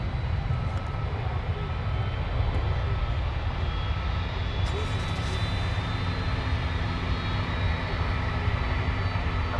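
A plane taxis at night at DFW Airport, its engine a steady, continuous broadband roar that holds level for the whole stretch with no voices over it.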